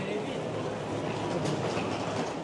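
A train rumbles at a railway station in Japan just after arriving off a Shinkansen, a steady, dense roar of wheels and carriage noise that holds evenly throughout.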